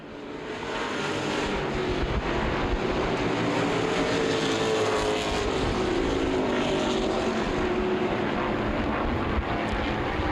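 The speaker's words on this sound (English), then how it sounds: "Coming across the line at the white, 1 to go for Dave Bice." A continuous roar of CRA street stock racing engines at Lucas Oil Raceway, Indianapolis, drones at steady loudness, a pack of cars sweeping past with no break in the noise.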